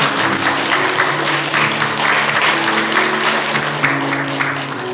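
Congregation applauds in a church during a Sunday worship service, welcoming a newly arrived pastor; steady, dense clapping fills the room for the whole stretch, with faint hum beneath.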